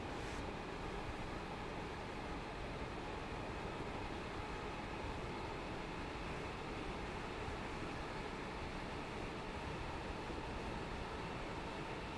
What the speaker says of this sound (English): See, this sounds proper. It's a proper train.